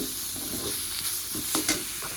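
Leafy greens stir-fry in a pan with a soft, steady sizzle and occasional light scrapes and clicks of stirring, moderately close and fairly quiet.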